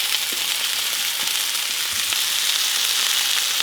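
Steak searing in a hybrid wok and cast iron skillet pan, an even, continuous hiss of hot fat sizzling close up with faint crackles, no voices.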